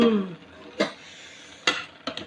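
A utensil scrapes and clinks against a pot of cooking coconut rice a few times as it is stirred, separated by quiet pauses, with a brief bit of background noise at the start.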